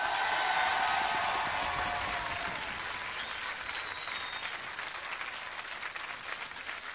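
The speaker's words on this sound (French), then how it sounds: "Ouais, vous pouvez l'applaudir." A television studio audience claps for a song in 1995, a dense, sustained wash of applause that stays loud throughout and tapers only slightly toward the end.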